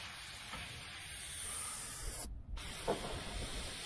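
Aerosol spray can hissing steadily as it sprays into the rusted roof lip of a 1972 Chevy Nova under restoration, a continuous close hiss with a brief pause and a few faint knocks.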